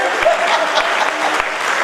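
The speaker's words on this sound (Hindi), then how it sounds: "जोरदार तालियां बजाओ अपने आप के लिए" Audience at a live stage show claps loudly and continuously, a dense close burst of applause filling the short moment with a faint crowd murmur underneath.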